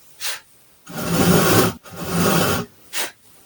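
A panel saw rasps through wood while starting a kerf: two long, breathy strokes bracketed by short quick ones, close and dry, with brief pauses between pushes and pulls.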